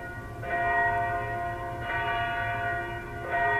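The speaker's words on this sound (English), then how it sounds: "the bells tolled at the exact moment of impact." Church bells toll at a memorial ceremony for the crash of Flight 3407 near Buffalo, three resonant strikes spaced about 1.4 seconds apart, each ringing out with a sustained metallic hum and no voices.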